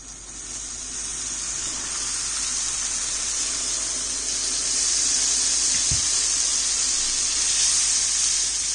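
Three cups of plain tap water go into roasting semolina for suji halwa over a very low flame, giving a steady rushing hiss and sizzle that swells slightly partway through, with one soft thump, and no voices.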